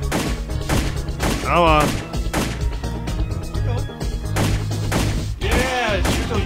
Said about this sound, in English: shoot those bullets off like that